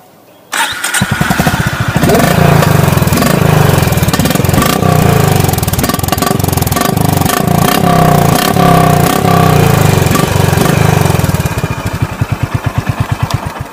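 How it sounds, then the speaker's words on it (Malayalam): A Honda CB350 Highness motorcycle engine cranks and fires after a short silence, then settles into a loud, close, thumping idle with a steady beat, blipping briefly before idling on alone. "അതുപോലെ ഹോണ്ടിന്റെ സൗണ്ട് നമുക്ക് കേട്ട് നോക്കിയാലോ."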